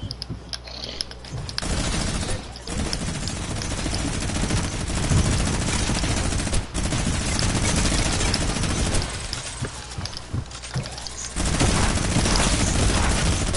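Sustained rapid gunfire and bursts from a Fortnite Creative match fill the scene, loud and dense with brief gaps, automatic weapons chattering over booming impacts.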